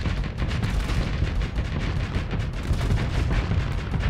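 Ballistic autoloader weapons in the space combat game Starsector, a dense, continuous barrage of rapid cannon shots and impacts, loud and unbroken throughout.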